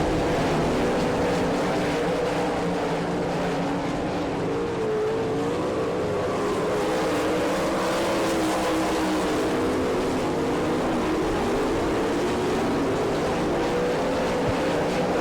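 Sprint cars roar through a heat race at Attica, Ohio, in an All Star Circuit of Champions event, a dense continuous engine drone with shifting pitch as the pack circles, steady and loud throughout.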